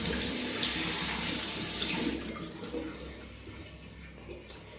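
Tap water gushing steadily into a sink while facial cleanser paste is rinsed off, a close, even rush that thins slightly toward the end with a few small splashes.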